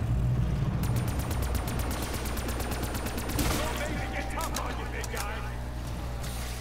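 Gunfire in Call of Duty Black Ops III Zombies: rapid automatic shots rattle over dense game sound effects and music, loud throughout, with a burst of rapid fire near the middle.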